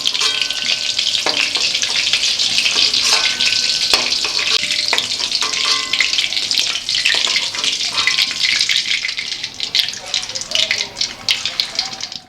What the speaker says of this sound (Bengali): কোফতাগুলো এখানে ভাজা হয়ে গেছে হালকা করে